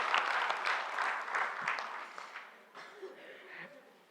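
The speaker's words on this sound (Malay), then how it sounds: "kita berikan tepukan paling gemuruh kepada semua calon-calon yang mewakili kita" Audience applause for election candidates at an UMNO Puteri wing policy speech, a dense wash of clapping that is loud at first and then thins and fades over about four seconds.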